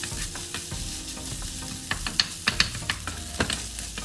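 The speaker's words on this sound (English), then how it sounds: "stir fry for another 1 more minute" Egg fried rice sizzles steadily in a hot pan over medium heat, with scattered scraping and tossing clicks from stirring, close and fairly quiet with no voices.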